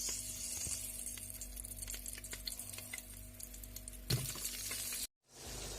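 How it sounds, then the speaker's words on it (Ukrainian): Eggplant pieces frying in hot sunflower-style oil inside a multicooker bowl, a steady close sizzle with scattered crackles and a stir or clink near the end, no voices. "Коли олія розігріється, я кладу сині."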